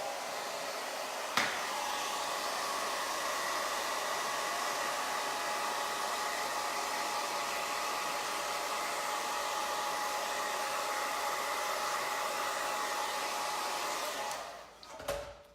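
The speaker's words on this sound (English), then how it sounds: "I'm gonna take the hair dryer on cool and low." A hair dryer on cool, low setting runs steadily at a low, even blowing hiss for the whole stretch, with a brief click near the start and a fumbling shutoff at the end.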